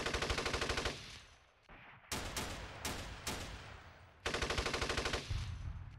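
Machine-gun bursts and single sharp shots from the Steel Panthers wargame, set in an Iran-Iraq war 1980 battle: a rapid rattle, a pause, several loud cracks, then another rattling burst, with no voices.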